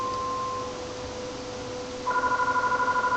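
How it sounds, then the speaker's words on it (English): Telephone ringing in the 1990s-set video game EarthBound, in the small town of Onett: a steady electronic tone switches partway through to a brighter, pulsing ring that repeats rapidly and loudly with no voices. "The phone is ringing, and I'm not gonna answer it."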